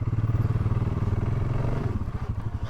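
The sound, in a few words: off-road motorcycle engine being put in gear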